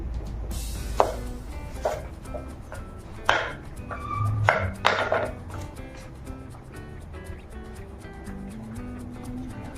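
A knife chopping raw banana on a board in a home kitchen, with a handful of separate, close, sharp cuts in the first half that give way to quieter handling and faint clatter.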